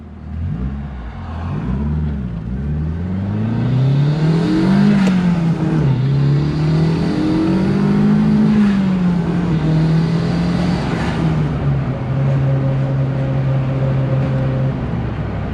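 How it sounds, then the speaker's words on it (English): A Datsun 1600 fitted with an SR20DET engine and a large R200 limited-slip differential is driving, heard from inside. The engine revs rise and fall, then settle into a steady loud drone with a whining note. "Diff is honking. That's the big mother R200 limited slip."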